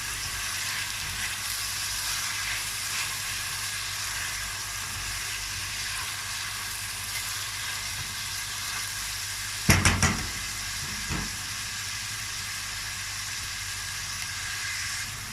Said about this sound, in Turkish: Böyle biberlerimi de biraz kavuracağım.